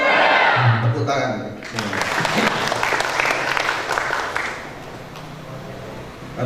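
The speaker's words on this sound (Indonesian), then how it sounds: "Tepuk tangan." Loud, sustained applause from the audience at an inauguration ceremony for KNPI youth committee officers in Bantul, with a voice briefly heard at the start before the dense clapping fills the room and slowly tapers.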